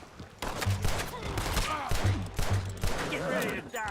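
Gunfire in the video game Red Dead Redemption 2 during a cowboy shootout: several sharp shots in bursts, mixed with shouting voices and someone talking over the fight.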